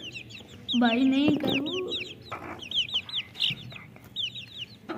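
Chickens cluck repeatedly close by, with one longer rising squawk early on, while someone speaks briefly over the farmyard noise.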